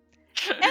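A single short, sharp sneeze bursts out after a brief quiet lead-in, close and fairly loud.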